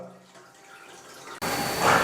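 Water rushing into an old toilet flush cistern as it refills, a steady hiss that starts abruptly partway through and grows louder, preceded by a faint quiet trickle.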